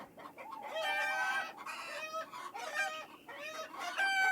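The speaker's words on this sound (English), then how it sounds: "The chickens are making a terrible noise." Several chickens cluck and squawk loudly and agitatedly in overlapping bursts, a noisy, excited flock close by with no talking.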